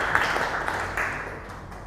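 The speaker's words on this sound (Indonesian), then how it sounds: "Tepuk tangan dulu buat Dita." Brief applause from a small audience in a lecture session on health promotion, a short burst of clapping near the start that quickly thins to a muffled room hum, with no talk.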